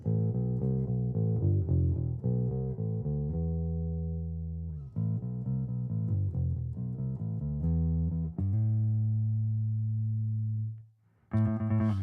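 Deep, dark-toned bass guitar notes on the dark pickup, played alone through a Bassman TV amp, a run of plucked phrases and held low notes that fade near the end.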